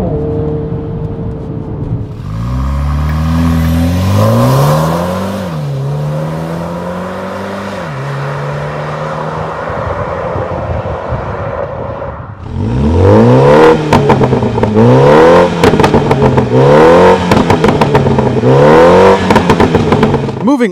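A 2020 Mini Countryman JCW ALL4 makes a launch-control start, its engine revving up through several rising gear pulls. After a pause, a louder run climbs hard through repeated upshifts, each one dipping and then surging again, close and loud.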